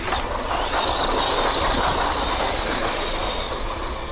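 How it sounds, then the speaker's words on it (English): A budget Arrma RC truck plows over rumble strips, producing a loud, steady rattling rumble with dense buzzing vibration throughout, ending abruptly. "it just plows right through those rumble strips."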